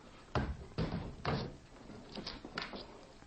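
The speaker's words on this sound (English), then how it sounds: "Liz, open the cell block door." A heavy cell block door in a jail opens with a series of loud, close clunks and thuds, followed by lighter rattling knocks as it swings and settles.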